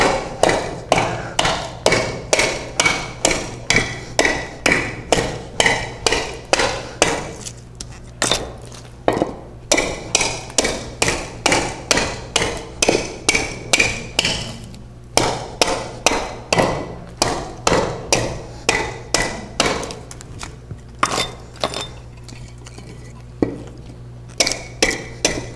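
A hatchet chopping a wooden decoy blank by hand: a long run of sharp, loud, evenly paced strikes, each a crisp thwack with a short decay, with brief pauses between bursts of blows.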